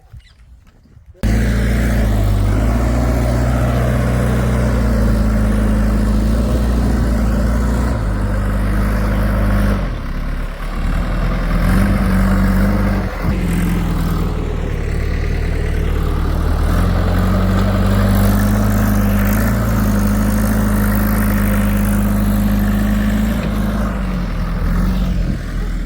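A tractor engine labours steadily while climbing on a farm, a loud, continuous low drone with slight shifts in pitch, close and alone.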